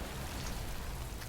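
Steady rain falls in a video game, a dense, even hiss of drops that runs without a break for the whole moment.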